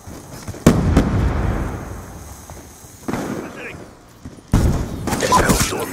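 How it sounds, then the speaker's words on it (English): Grenade explosions in a Call of Duty video game: three sharp, loud blasts spaced a few seconds apart, each followed by rumbling debris, over continuous battle noise with voices. "Grenade!"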